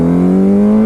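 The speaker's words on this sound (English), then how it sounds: "it sounds like a sport bike." A loud, steady Kawasaki 636 sport bike engine drone with strong harmonics, rising slightly in pitch near the end as the revs climb, close up and alone.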